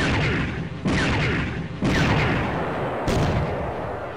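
Reaction fire in the Steel Panthers WW2 video game: three heavy, booming gunshot blasts about a second apart, each with a long rolling decay, loud and without speech.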